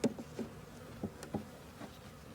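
Honeybees from a wild swarm buzz faintly around a hive in a bee yard as they move in, with a soft, continuous hum and a few light ticks and taps.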